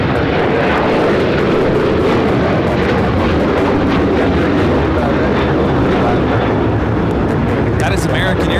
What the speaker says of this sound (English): That is American Airlines 1467 taking off to Columbus on the 737-800.